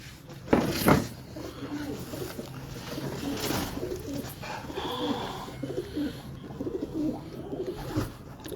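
Shah Parwazi pigeon from Lahore cooing in soft, low repeated calls at night, close by, mixed with background rustle and brief handling noises.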